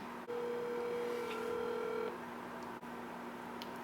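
A telephone dialing a call to a wildlife rehabilitator, a steady tone holding for about two seconds before dropping to a quieter line hum, faint and alone.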